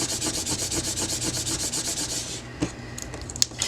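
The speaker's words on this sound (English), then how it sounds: "Let's burnish both sides." Transfer tape being burnished on both sides for a Cricut craft project: a steady, rapid rhythmic rubbing scrape for over two seconds, then a few isolated taps and scuffs, close and clear with no talking.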